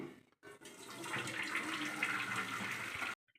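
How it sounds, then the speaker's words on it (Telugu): Hot water and boiled vermicelli tipped into a strainer in a home kitchen make a steady rushing pour that lasts about three seconds and then stops abruptly, preceded by a brief splash. "ఇలా వాటర్ అంతటిని వడగట్టుకోవాలి."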